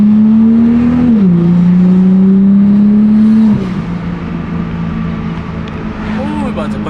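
A 500+ HP Toyota Supra with a titanium intake drones loudly from inside the cabin, its engine note rising, dipping slightly, then settling lower, with excited talk over it.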